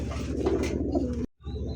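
A large cream Pakistani pigeon gives a deep, rolling coo twice, close and loud, with a brief break between the two calls.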